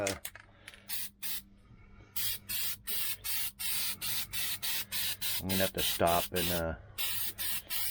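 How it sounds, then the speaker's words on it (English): Repeated short bursts of spray truck bed liner from an aerosol can hiss close by in an uneven rhythm, with a rattling can and a voice speaking briefly between bursts. "Okay, so we got some spray truck bed liner."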